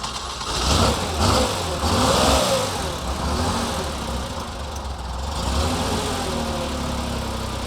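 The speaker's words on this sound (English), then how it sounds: "So I'm just going to start up, listen to this air-cooled engine." Air-cooled Porsche engine, a rebuilt unit, starts up and revs in a series of loud, close bursts before settling into a steady, throaty idle, with no talking over it.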